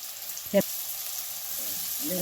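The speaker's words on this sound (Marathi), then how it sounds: "आता ह्यातच टाकूया बघा ह्या तेलात कांदा आणि टाकूया हिरव्या मिरच्या" Chopped onion and green chillies frying in hot oil for an egg curry, a steady bright sizzle close up, broken once by a short utensil clatter.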